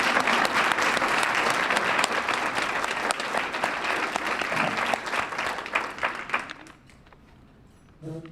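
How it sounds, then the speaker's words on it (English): A room of guests at a Rotary Club luncheon breaks into loud, steady applause that carries for several seconds and then abruptly fades to quiet room noise. "Now let's give them a round of applause."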